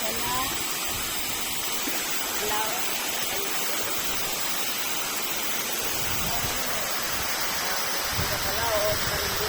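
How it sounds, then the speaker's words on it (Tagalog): A waterfall at Patis in Candijay, Bohol, pours with a dense, steady roar of rushing water close by, while someone talks intermittently over the noise. "Napakagandang falls guys dito sa Patis guys ng Bohol."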